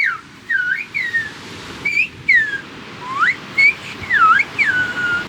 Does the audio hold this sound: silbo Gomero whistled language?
yes